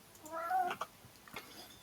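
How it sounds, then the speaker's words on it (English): A domestic cat gives two short meows, the first drawn out with a rising and falling pitch, the second a brief chirp, close and fairly clear over a quiet background inside a Minecraft-style game. "Manny, get down, that's my cat."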